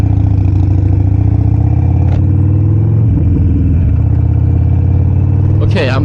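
Harley motorcycle pulling away as the rider lets out the clutch and opens the throttle, a loud, steady engine drone near the microphone with a brief rev rise near the end, and the rider talks over it.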